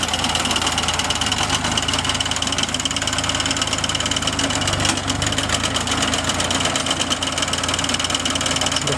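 A tractor engine in Italy, used for mowing grass, runs at a steady idle. A dense, even, close mechanical drone with a rattling, knocking texture holds throughout, with no talk.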